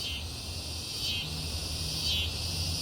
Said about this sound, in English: Okay, cicadas. If you're gonna scream, just come out.